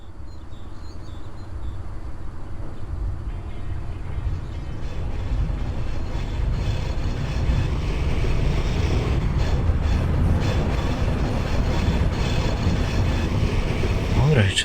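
A low, steady rumble of an EP07 electric locomotive in the Open Rails train simulator builds as it starts rolling with four carriages, a continuous mechanical drone with no voices.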